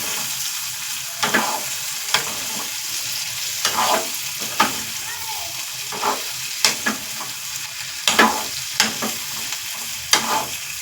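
Vegetables and green chillies fry in a pan while a spoon stirs them, a steady close sizzle broken by regular scraping strokes, with no voices.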